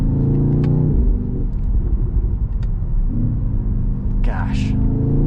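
A 2025 BMW XM plug-in hybrid luxury SUV accelerates with a steady, loud low engine rumble that swells and eases across the stretch, heard from inside the cabin.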